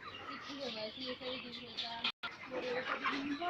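Broiler chickens about 34 days old on a poultry farm, a steady dense chorus of soft chirping and clucking from many birds close by, with a brief gap near the middle.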